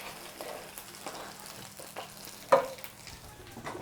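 Chicken fries in a pan for homemade doner, with a steady soft sizzle and crackle and one brief louder pop partway through, and no talk.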